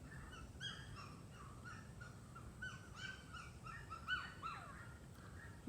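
A small bird repeats short, thin chirping calls in clustered bursts over several seconds, fairly faint against a steady low outdoor hum, with no voices.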